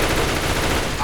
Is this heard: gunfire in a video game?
yes